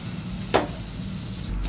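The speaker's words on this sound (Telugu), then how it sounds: "బటర్ వేస్తున్నాను" Butter sizzles in a hot pan with an even, fairly loud hiss. One quick tap of a utensil sounds early on, and the hiss continues to the end.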